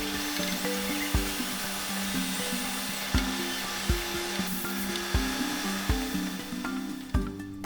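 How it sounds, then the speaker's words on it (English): A CNC lathe turns an aluminum part, sped up, giving a continuous whirring machine tone broken by regular sharp clunks at roughly one-second intervals. "the dado flip base, which is turned out of aluminum at one of our state-of-the-art CNC lathes"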